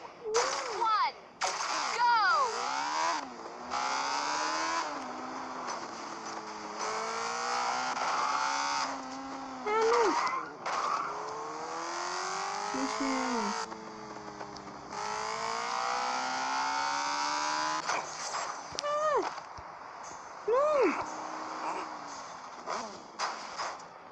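Engine whines from motorcycles racing in the video game Gangstar Vegas rise and fall in pitch as bikes accelerate and shift, with repeated revving sweeps, close and fairly loud, while a young voice talks over them.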